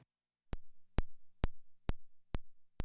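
A Minimoog Model D's oscillator 3 set very low, producing a steady run of six sharp clicks about half a second apart, each followed by a soft low thump, faint and alone.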